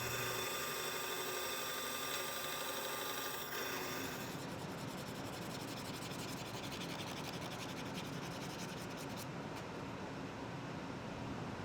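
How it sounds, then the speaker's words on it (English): Sandpaper rubbed over a small maple wood piece, a close, continuous scratchy rasp that shifts slightly in texture partway through. "A bit of sanding to clean it up,"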